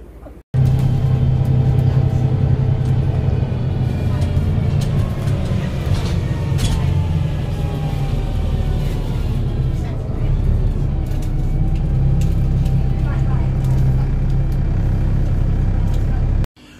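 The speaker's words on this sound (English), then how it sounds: "I am going to wait for this one because it's got a really nice 5th gearbox in this. Dennis Trident ALX 400" A Dennis Trident ALX400 double-decker bus, 51 plate, with a five-speed gearbox, rumbles steadily at close range for the whole stretch, its diesel engine droning low as gears shift and revs rise and fall.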